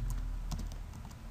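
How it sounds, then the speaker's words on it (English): Rapid keystrokes on a computer keyboard rattle steadily at close range, typing a word into a notepad, with no talking. "I'm gonna open up a new notepad. And type in Prosper."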